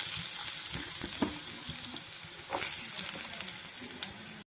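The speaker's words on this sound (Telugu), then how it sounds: "కొంచెం ఆయిల్ వేసుకొని హీట్ ఎక్కినాక ఆనియన్స్ వేసుకుందాం" Chopped onions hit hot oil in a pan while making aloo paratha filling, giving a steady close sizzle with light clinks and scrapes, swelling louder for a moment partway through.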